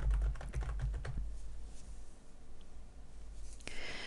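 A macro name is typed on a computer keyboard while working in Excel, heard as a quick run of close key clicks at first, then quieter background with a few faint taps.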